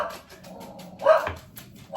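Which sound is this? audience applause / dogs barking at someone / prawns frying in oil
dogs barking at someone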